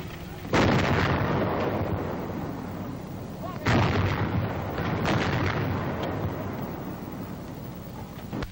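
Coast artillery anti-aircraft guns fire in 1942 wartime drill, two loud, heavy booms whose long rumbling roar fills the space between and after the shots.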